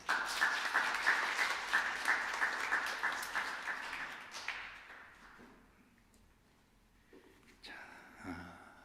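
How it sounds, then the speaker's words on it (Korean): A church congregation claps at a Sunday worship service, welcoming and congratulating a bride-to-be. The applause is steady for about four seconds, then fades into quiet, and a brief burst of sound follows near the end. "박수합니다."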